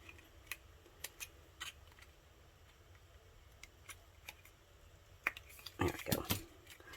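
Scissors cutting paper for a handmade lip balm gift box: faint isolated snips at intervals, then a closer flurry of rapid crisp cuts near the end, with no speech.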